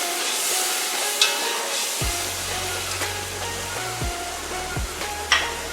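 Tomato paste with salt, red chili powder and crushed red chili frying in a pan, a steady broad sizzle with a few faint scrapes and a low droning hum running underneath.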